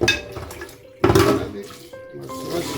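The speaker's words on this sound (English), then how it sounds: "Must wash it very well with a lot of water." Peeled ginger being washed under plenty of running water in a sink, splashing and clattering against a bowl in short bursts with a louder gush partway through; a voice talks faintly underneath.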